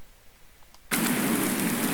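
Heavy rain on a farm starts abruptly after a quiet stretch, jumping into a loud, dense, steady hiss of downpour that continues without letting up.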